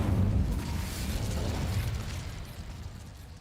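A fire spell is cast in the game Hogwarts Legacy, giving a loud whooshing burst of flame that swells at once and then rumbles on steadily as it fades slightly, with no voices over it.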